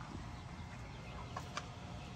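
Free-range egg-laying chickens cluck faintly in a few short calls over a steady outdoor background hiss, with no talk.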